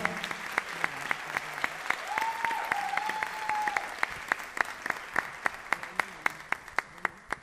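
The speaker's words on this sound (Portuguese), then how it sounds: "Outra salva de palmas para essas cantoras maravilhosas." An audience claps for a group of singers at a poetry and music evening, a steady round of applause with sharp individual claps standing out near the microphone and a brief sung or hummed tone partway through.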